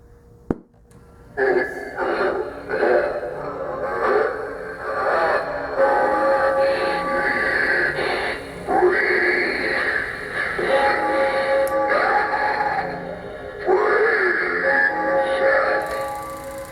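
A 2009 life-size Deadlift Zombie animatronic prop whirs and groans with raspy, moaning vocal sounds in repeated bursts after a sharp click, fairly loud and continuous.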